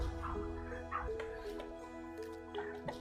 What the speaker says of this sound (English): I hear the dogs barking